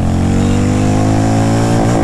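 A Harley Davidson X440 motorcycle revving hard up to its rev limiter, a loud, close, sustained high engine roar that stutters as the limiter cuts in near the end.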